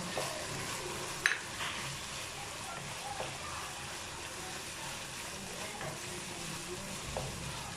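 Minced chicken for a chilli qeema fries with chopped green coriander added, a soft, even sizzle and hiss with one sharp clink of a utensil early on and faint stirring throughout.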